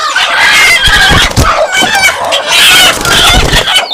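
Several free-range country chickens cluck busily and continuously on a poultry farm, close by, with overlapping calls filling the whole stretch and no talking.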